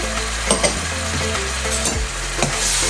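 Sofrito mixed with onion, stirred while it fries in a pan, gives a loud, continuous sizzle with scraping strokes from the spoon repeating every half second or so, and no voices.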